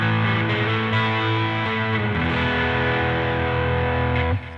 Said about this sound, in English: tone down the gain a lot and kind of get a overdrive sound instead of a distortion